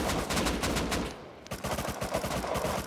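AK rifle gunfire in the video game Rust, loud rapid bursts of automatic shots in two strings separated by a short gap, with no talking.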